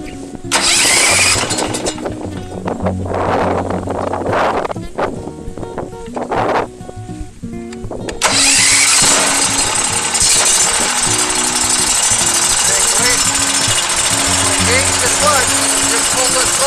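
Grizzly 30 portable sawmill engine starting up, then running steadily and loudly with a broad roar; people talk over it during the first half before the engine noise fills the rest.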